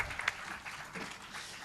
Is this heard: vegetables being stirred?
no